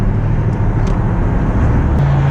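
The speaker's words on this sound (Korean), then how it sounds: "이제 레이스 모드로 변경을 해서 조금 하드코어, 그러니까 세팅을 조금 더 스포츠하게 변경을 하고요. 한번 이쪽에서 가속을 한번 해보도록 하겠습니다." Mercedes-AMG SL 63 4MATIC+ open-top V8 roadster accelerating hard in race mode, a loud, steady low engine roar that rises in pitch toward the end, heard from inside the car.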